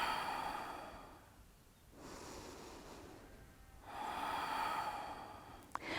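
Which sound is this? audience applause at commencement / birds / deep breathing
deep breathing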